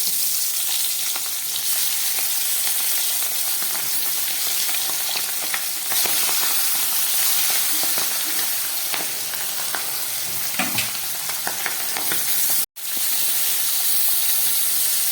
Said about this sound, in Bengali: সব মাছগুলো আমি একবারেই ভাজা বসিয়ে দিলাম। এবারে ভাজা হোক।